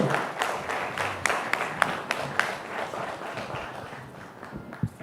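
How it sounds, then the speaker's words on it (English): Moderate applause at a large AI summit event in India, a diffuse crowd patter punctuated by a few sharper, distinct individual claps, fading slightly toward the end. "they'll give you another big round of applause"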